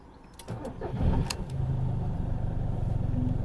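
A 2005 Volkswagen Polo with a faulty air-conditioning system cranks briefly and its engine catches, settling into a steady close idle rumble.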